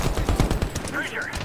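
Rapid bursts of gunfire in the video game Medal of Honor (2010), dense cracks clustered in the first half then thinning out, with a voice briefly audible near the end.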